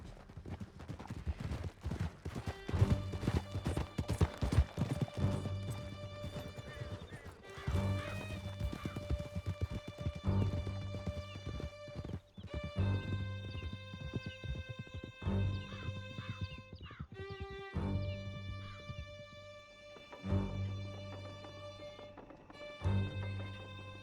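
Horses galloping in Red Dead Redemption 2, a dense, rhythmic clatter of hooves close by that runs throughout, alongside a steady musical drone and a few heavier crashes.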